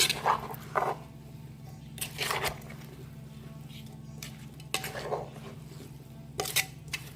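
Fruit salad with khanom jeen rice noodles pounded in a large mortar: irregular knocks and clatters arrive in short bursts over a steady low hum, with quiet gaps between strokes.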